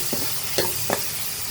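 A spoon stirs chopped tomatoes with salt and turmeric in a pan, giving three short scraping strokes over a steady soft sizzle, close and with no talking.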